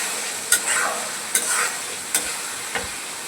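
Spices with bay leaf stirred and frying over medium heat for Bangladeshi egg curry, a soft steady sizzle punctuated by four sharp spatula scrapes against the pan, close and alone.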